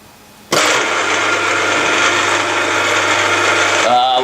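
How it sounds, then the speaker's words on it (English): A power drill boring a 13mm hole for a CV joint job starts abruptly and holds a steady, loud, continuous whine with a low hum underneath for about three and a half seconds, then winds down. "We're drilling 13mm."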